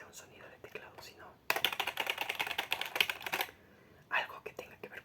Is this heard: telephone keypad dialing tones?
no